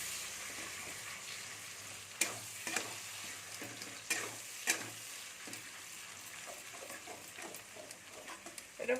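Ground fried spices and tomatoes sizzle in a pan and are stirred, a soft continuous hiss broken by a few sharp scrapes and taps of the spoon, with no voices.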